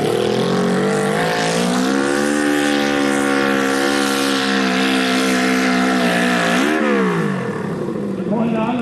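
A pulling tractor with a V-Max engine at the Euro-Cup tractor pulling event in Herning, July 2002, revving at full RPM: a loud, sustained high-pitched engine roar holding steady for several seconds before dipping and trailing off.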